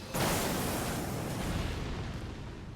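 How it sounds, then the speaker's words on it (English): A Ghost Flame explosion spell in Elden Ring erupts with a single loud, broad boom that rumbles and fades over a couple of seconds. "does the explosive Ghost Flame explosion and puts the pattern on the ground"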